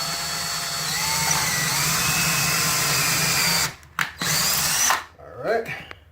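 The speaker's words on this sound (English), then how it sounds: "And now we're going to drill." A power drill bores into a wall to fit a TV or monitor mount, running loud and steady up close for several seconds, then stopping in short bursts with brief pauses and some faint handling noise.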